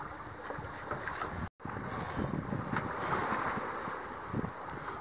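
A sailboat running with the wind on the port quarter in small waves close to land near Moramba Bay, Madagascar, gives a steady, close wash of water and wind noise throughout, with a brief dropout partway through.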